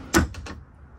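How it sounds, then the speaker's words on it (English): A drawer in a 2015 Coachmen Prism 24G motorhome slides with one sharp knock followed by two quick softer rattles, close and brief in a quiet interior. "Another drawer."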